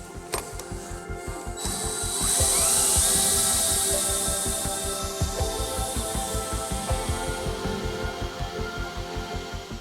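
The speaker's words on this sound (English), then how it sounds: "So my little battery drill takes a bit of a beating, but it does fine." A small cordless drill whirs steadily, spinning a Spitfire FR XIV engine accessory gearbox, its motor pulsing rhythmically, rising in pitch briefly then settling.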